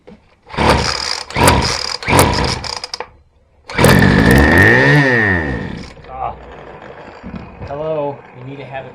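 A small, old engine with fuel added but no carburetor fitted sputters in short bursts and catches briefly, rising to a brief rough run before dying. Voices speak between the bursts.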